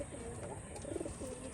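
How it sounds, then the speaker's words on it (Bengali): Male pet pigeons cooing softly in a home loft, a few low rolling coos heard close but faint over quiet background, with a person murmuring at moments. "দুটোই নর পায়রা"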